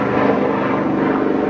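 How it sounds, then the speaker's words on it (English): Helicopter flying overhead, a loud continuous rotor and engine drone that stays steady and close the whole time, with no talk. "just a rude person in a helicopter"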